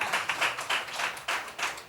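A small group claps for a woman at a live conversation event on alternative music, the irregular claps fairly close and moderately loud, the burst running briefly without talk.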